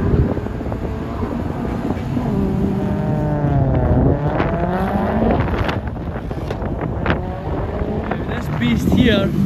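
A turbocharged Lexus IS200 roars off the line at a drag strip, its engine note climbing through gear changes under wind buffeting at a distance, with a voice talking over it.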